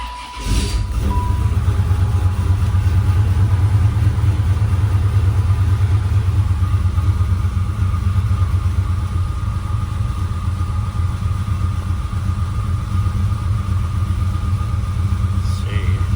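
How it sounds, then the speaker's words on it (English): A Callaway SuperNatural Impala SS engine idles with a steady, loud low rumble that holds evenly throughout. "But I am going to start the car, let it idle, and data log."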